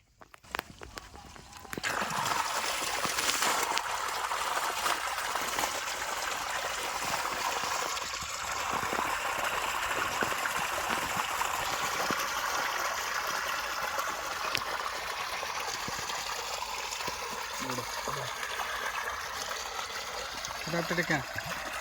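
Water running slowly along an irrigation channel in a farm field, a steady soft trickling and gurgling that continues close by for the whole stretch, with no voices over it.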